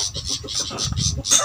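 A pet chicken clucking in short repeated bursts close by, several rhythmic calls in quick succession with some rustling beneath.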